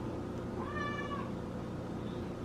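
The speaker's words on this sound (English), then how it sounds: "She meows periodically." A house cat meows once indoors, a short rising-and-falling call at moderate distance over a quiet room hum, with no talking.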